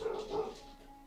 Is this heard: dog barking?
yes